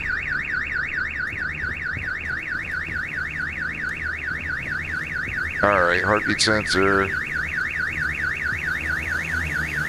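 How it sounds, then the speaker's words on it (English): A car alarm in the shooter game Call of Duty Modern Warfare 3 wails in a steady, rapidly warbling siren throughout, loud and continuous, while a brief burst of other game noise and a short spoken line cut in midway. "Car alarm."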